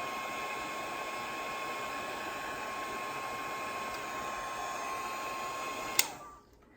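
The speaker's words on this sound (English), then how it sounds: "I'm going to go ahead and use my heat gun and dry the head." A heat gun blows in a continuous steady whir while drying a peg doll head, then cuts off abruptly near the end.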